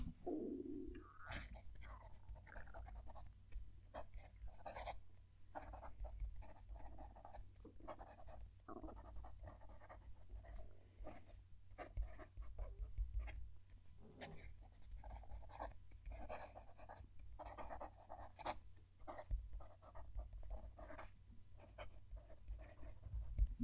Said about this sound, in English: I'm going to move the mic down to the page so you can hear the pen writing.